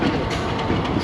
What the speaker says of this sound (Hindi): रेलवे स्टेशन पे अप्रोच कर रही है 101 अब।